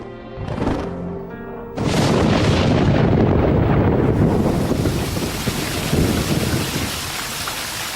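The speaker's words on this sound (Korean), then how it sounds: "When the rains finally arrive," Heavy rain pours down, followed by rolling thunder across a stormy sky, loud and steady with wind buffeting the microphone, after a quieter opening with a rumble of distant thunder.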